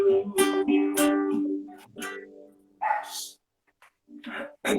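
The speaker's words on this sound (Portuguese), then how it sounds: "Os guaipeca tá aqui latindo." Several small mixed-breed dogs at a house barking close by, loud overlapping yaps and barks in quick bursts with brief pauses between them.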